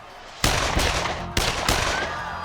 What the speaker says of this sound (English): the piercing crack of gunshots rang out